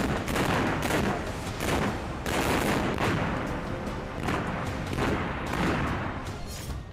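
Repeated explosions and bursts of gunfire across mountainous ground during a military exercise, loud, rolling booms and volleys arriving in clusters with brief lulls between them.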